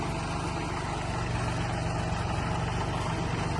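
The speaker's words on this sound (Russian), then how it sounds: "Трактор едет вперед." A Mitsubishi MT165 mini tractor rolls forward with its rotary tiller turning, its engine giving a steady, close, loud drone with a low rhythmic throb and no talking.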